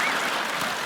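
Studio audience clapping on a Hindi comedy talk show set, a dense, steady burst of applause filling the whole short moment without any voices.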